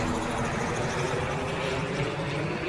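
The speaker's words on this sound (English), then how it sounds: "Oh, there's my flyby, by the way." An aircraft flies overhead, a steady broad engine roar that fills the whole moment without a break.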